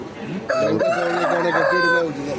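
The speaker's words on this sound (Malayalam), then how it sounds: "സുന്ദരനായ ഒരു കോഴിയെ കെട്ടിയിട്ടുണ്ട് അവരുടെ" A tethered rooster crows loudly and close by, one full drawn-out cock-a-doodle-doo filling most of the clip.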